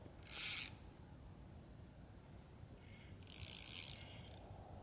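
A fishing reel is cranked during carp float fishing, two short bursts of ratcheting clicks, one brief and one longer, set against a quiet outdoor background.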